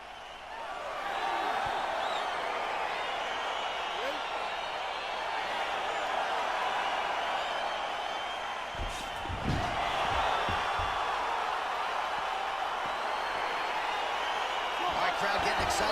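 A video-game arena crowd at a UFC 4 fight roars steadily as the bout begins, a constant wash of cheering throughout with a couple of dull thuds midway, and a commentator's voice talking over it.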